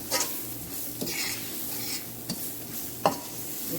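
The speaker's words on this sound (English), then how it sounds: "you're going to now pour in your little herbs, and you're going to just let it fry up right here" Herbs and seasoning fry in a pan for spaghetti and meatballs, a soft continuous sizzle close by with several clinking spoon-on-pan stirs and scrapes punctuating it, no voices.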